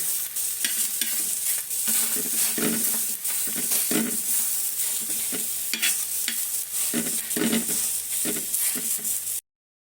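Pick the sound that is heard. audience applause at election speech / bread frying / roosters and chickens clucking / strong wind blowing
bread frying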